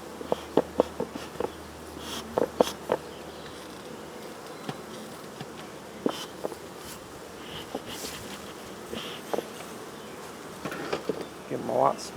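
Honey bees buzz around an opened hive with dead bees on top, a faint, steady hum broken by short, louder bursts as single bees fly close past.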